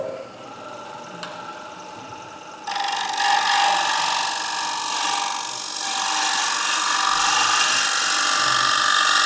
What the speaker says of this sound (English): doing a little pull cut there, because it's being jammed in between centres